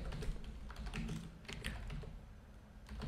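Fast, steady typing on a computer keyboard fills the short stretch with dense clattering keystrokes, close and continuous, with no one talking.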